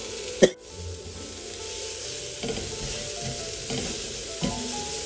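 Chopped onion and tomatoes sizzle in a pan with a steady, close hiss that runs throughout, broken by a sharp clunk at the start and a few soft stirring scrapes.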